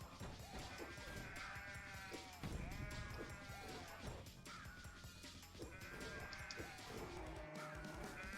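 Several sheep bleat repeatedly in a video game over a busy background, their wavering calls overlapping and fairly loud, with no talking.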